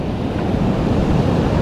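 Ocean waves wash onto a beach during shore fishing for kabeljou, a loud, continuous roar of surf mixed with wind buffeting the microphone.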